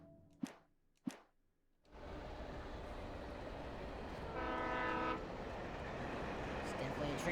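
Train yard ambience in the video game Alan Wake: two sharp knocks in near silence, then a sudden steady rail rumble with a horn-like tone swelling midway before settling back.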